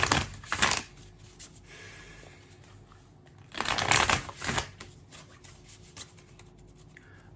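Tarot cards being shuffled during a reading, two bursts of brisk riffling and rubbing separated by quieter handling of the deck, close up with no talk.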